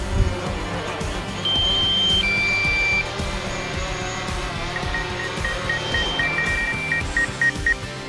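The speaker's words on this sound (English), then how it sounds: "Gonna get my battery warning." A DJI Mavic Pro drone sounds its low battery warning as a series of short high-pitched beeps and tones over a constant background hum, with a faster run of beeps toward the end.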